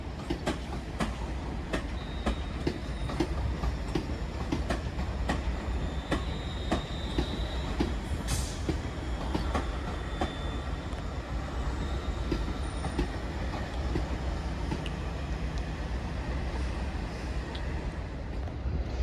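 An Avanti West Coast Class 390 train, unit 390-043, passes through Crewe station with a sustained rumble, clicking wheels over rail joints and brief squeals, close and steady throughout.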